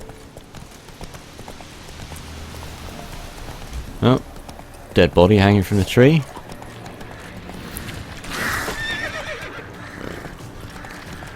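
In The Witcher 3, a horse's hooves clop steadily in a galloping rhythm and it gives a loud neigh midway, with someone talking over the hoofbeats.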